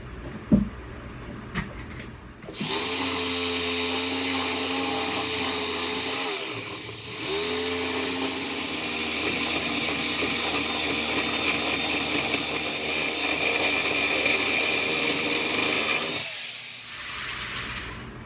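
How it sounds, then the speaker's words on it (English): A jigsaw cuts through hard material and roofing material with a loud, continuous buzzing drone that starts abruptly, dips briefly once, then runs steadily for about fourteen seconds before stopping, with no talk. "Plus I'm cutting through the roofing material, which is probably dulling the blade."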